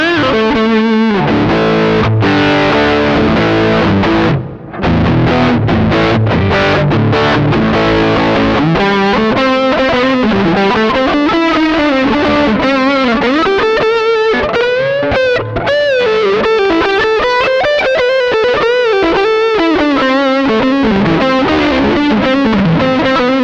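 High-gain electric guitar on the neck pickup through a JOYO American Sound modeling pedal with a tube screamer pushing the drive, saturated chords and fast lead lines sustaining loudly, with a couple of brief pauses and no talking.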